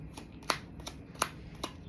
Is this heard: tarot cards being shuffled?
yes